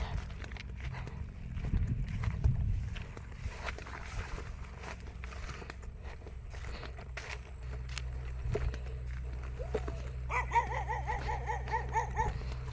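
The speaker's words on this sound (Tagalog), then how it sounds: "I'm afraid of the dog and the dog is right here waiting for me." A farm dog on a rural province farm plot, giving intermittent barks and whimpers amid footsteps and movement, fairly close, with a high repeated yelping burst near the end over a low background rumble.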